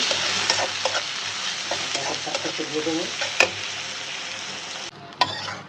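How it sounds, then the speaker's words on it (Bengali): Spices sizzle in hot oil in a pan for a home-cooked Eid meal, with a steady close hiss broken by repeated scraping stirs. The frying fades near the end, then a sharp clink of the utensil follows. "সুন্দর করে নাড়াচাড়া দিয়ে নামালাম"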